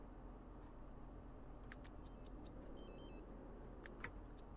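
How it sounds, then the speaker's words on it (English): A smartphone rings in The Sims 3 game, a few short bright electronic tones and a brief melodic trill sounding faintly over a steady low background hum, with no one talking. "Is that somebody's phone?"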